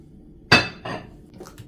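Pots and dishes being washed and wiped by hand, with a sharp metallic clank followed by a softer knock and faint clinks in a quiet room.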